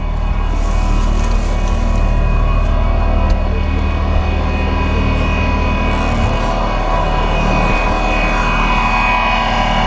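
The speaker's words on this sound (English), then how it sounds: "today they're dredging right outside my boat, so let me just show you what's going on out here. It's very noisy." Loud, constant mechanical droning and whirring of a dredger working right outside a moored boat, steady throughout without pause, with faint clanks mixed in.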